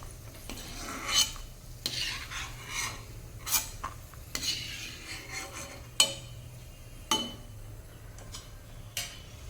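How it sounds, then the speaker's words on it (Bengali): Cashews frying in plenty of hot oil in a wok, stirred with a utensil: repeated scraping, rasping strokes arrive in an irregular rhythm, close and moderately loud, over a faint, low background sizzle. "কাজুটাকেও একটু ভেজে নেব।"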